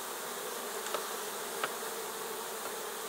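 A swarm of bees buzzes steadily near a hive, a dense continuous drone with no talk, plus a couple of faint brief clicks over the hum.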